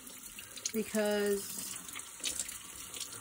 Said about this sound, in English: I'm just gonna rinse it under the water